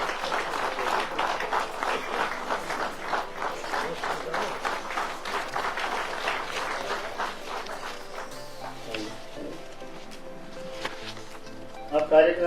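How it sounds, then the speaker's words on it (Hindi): An audience at a seminar claps to welcome a guest onstage, a fairly sparse, uneven patter of hands that thins and fades out toward the end, followed by a few scattered louder knocks. "संजय भटनागर जी के लिए जोरदार तालियां साथियों"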